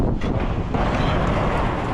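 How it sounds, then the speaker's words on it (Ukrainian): Strong wind buffeting the microphone at a hangar construction site, a loud continuous roaring rush of gusts close to the mic, with no voices. "Вітер, звісно, дує капітальний."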